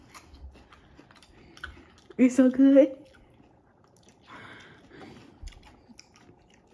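Crunchy bites of jalapeño Cheetos topped with cream cheese, a short burst of loud close chewing with a few crisp crunches, then quieter mouth sounds while people talk.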